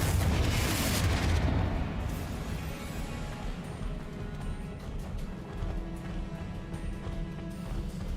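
Confringo blast spell exploding in the video game Hogwarts Legacy, a loud booming burst at the start that settles into a rumbling, crackling wash of game effects and ambience.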